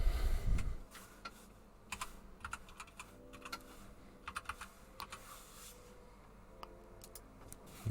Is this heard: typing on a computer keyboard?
yes